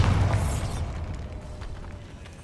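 A Bombarda spell explodes in the Hogwarts Legacy video game: one heavy, close booming blast right at the start that rumbles and slowly fades away.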